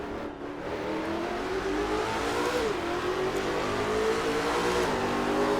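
James Bond's dream car accelerates around a track, its mid-pitched engine note rising and falling steadily as it revs through the gears, close and continuous with no talking.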